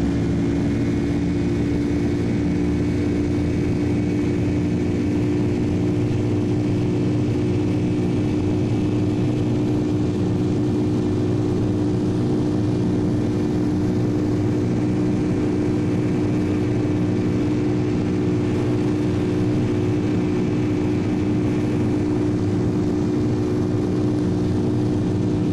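In Flight Simulator X, an A319's engines at takeoff throttle give a loud, sustained jet drone with a steady low hum and a broad roar that holds unbroken.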